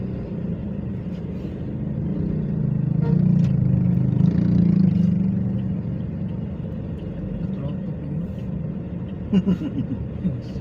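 Sunday road traffic rumbles past in a low continuous drone, swelling as a vehicle goes by mid-way and easing off again, with faint voices and a few brief knocks on top.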